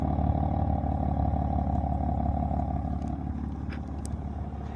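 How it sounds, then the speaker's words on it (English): A 2015 BMW M4 engine idles with a steady, deep exhaust burble, continuous and close, with a faint rising tone near the end. "Hear the nice exhaust sound."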